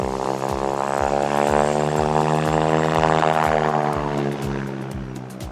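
Two propeller planes roll together in formation, a loud, steady droning engine roar with a rapid pulsing propeller beat that holds throughout, close and unbroken.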